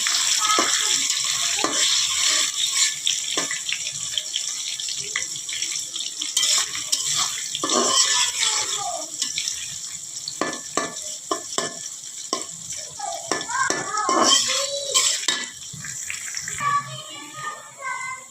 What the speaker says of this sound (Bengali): এখন আমি দিয়ে দিচ্ছি পেঁয়াজ কুচি